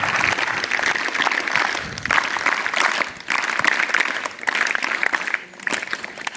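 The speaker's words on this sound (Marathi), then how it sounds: "आपण सर्वांनी जोरात तीन टाळ्या वाजून स्वागत करायचं" A school audience applauds to welcome the school team and headmaster, giving three loud rounds of clapping, each a dense rattle with a brief dip between rounds.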